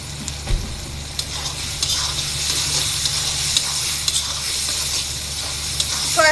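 Sizzling chow mein noodles are stirred in a hot pan as soy sauce goes in, with a steady loud frying hiss and scraping stir strokes throughout.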